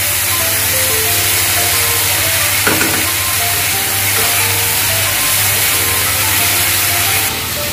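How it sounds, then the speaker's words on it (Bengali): Vegetables fry in plenty of oil tempered with panch phoron, dried red chilli and dried fish, giving a loud, close, unbroken sizzle with a brief stirring scrape partway through. "ভালো করে ভাজা হয়ে গেছে সবজিটা"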